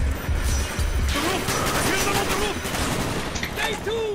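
Sustained rattling gunfire from the Call of Duty Black Ops video game, loud and continuous with heavy crashes and scattered other game effects mixed in.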